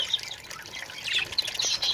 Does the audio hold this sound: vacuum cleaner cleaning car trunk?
no